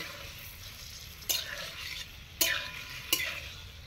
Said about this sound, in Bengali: এই কড়াইয়ের মধ্যে যে তেলটা আছে এই তেলের সঙ্গে আমি পনিরগুলা কেটে রেখেছিলাম, পনিরগুলা দিয়ে দিচ্ছি।